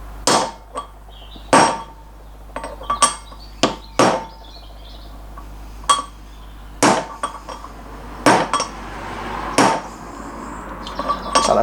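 Soft-faced hammer tapping an MGB brake component into place on a table: a dozen or so sharp, ringing knocks at uneven intervals, loud and close, with no talking.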